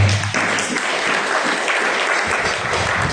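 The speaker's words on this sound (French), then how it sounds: "Applaudissez pour elle." A church congregation applauds during a French-language service, dense and sustained clapping that fills the room at steady loudness throughout.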